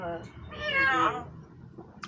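A person imitates a kitten's meow with one drawn-out mew that rises and falls, close and fairly loud, after a brief murmur of voice.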